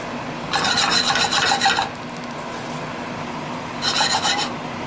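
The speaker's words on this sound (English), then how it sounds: "Let's get the mushrooms on." White chanterelle mushrooms cook in a hot pan, with two bursts of scraping and stirring over a low, steady background sizzle; the sound is close and moderately quiet, with no voices.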